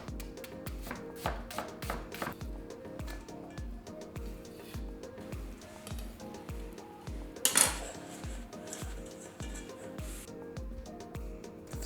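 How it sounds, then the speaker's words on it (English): Salt, sugar and sliced carrots, onions and celery are tossed together by hand in a bowl to make a cure for salmon, giving a steady run of close, rhythmic scraping and clattering knocks with one brief louder clatter midway. "So what I'm doing here is mixing salt, sugar, and vegetables all together."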